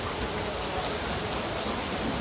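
Rain pours down steadily on a farm with Jersey cross cows, making a loud, even hiss of dense drops that stays unchanged throughout.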